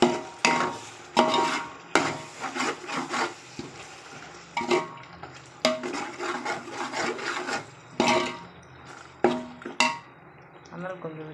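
A spoon scrapes and stirs tomatoes cooked down with yogurt, turmeric, biryani masala and garam masala in a pan, irregular wooden scraping and clinking strokes repeating close up with soft sizzling between.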